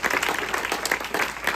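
An outdoor theatre audience applauds in a dense, continuous burst of clapping with no pauses, fairly loud and close.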